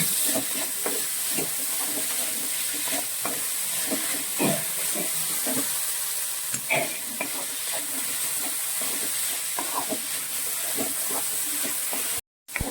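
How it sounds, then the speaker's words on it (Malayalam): Chopped mango, onion and green chilli being stirred in a frying pan, a steady sizzle and hiss running throughout with repeated scraping strokes of the spoon, close and moderately loud, cutting off briefly near the end. "മാങ്ങായും കൂടി ചേർത്ത് നമ്മൾ നന്നായിട്ട് ഇളക്കി യോജിപ്പിക്കണം"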